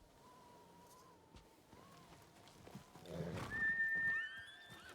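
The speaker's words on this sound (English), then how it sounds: "How do you have a horse?" A horse in the video game Ghost of Tsushima whinnies in a short neigh that swells louder toward the end, set against quiet wind and ambience with no talk.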